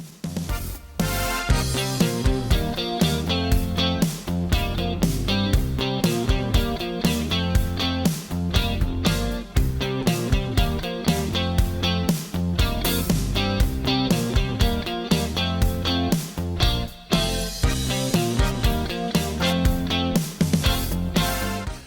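An electric guitar, a Strat, plays a steady, rhythmic chordal passage from the verse of a song with a full band-like drive, continuous and loud throughout with no talking.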